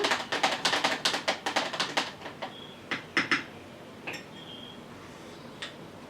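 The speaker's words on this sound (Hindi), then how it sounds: "सिर्फ मैं इसको घुमा लेती हूँ, मिक्स हो जाएगा" A spoon stirs a plant-based mango shake with milk in a glass: a fast run of bright clinking taps against the sides, then slower scattered knocks and a couple of soft scrapes, close and fairly quiet with no talking.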